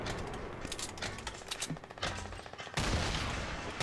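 Rapid gunfire from a Fortnite match rattles in dense bursts, loud and continuous across the stretch, with game effects mixed in.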